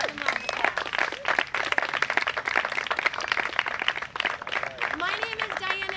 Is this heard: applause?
yes